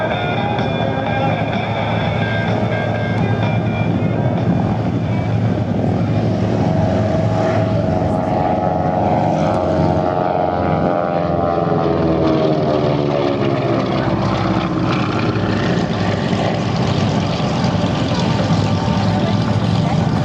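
A Beech 18 Expeditor twin-engine propeller warbird flies past at an airshow, its loud droning engines rising and shifting in pitch as it passes, with a commentator talking over the steady roar throughout.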